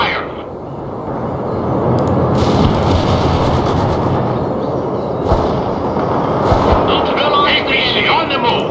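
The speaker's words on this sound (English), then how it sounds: "APC is returning fire." An armored personnel carrier trades gunfire in World in Conflict, with steady rumbling bursts of shots and explosions rolling under a battlefield din, punctuated by a few sharper impacts.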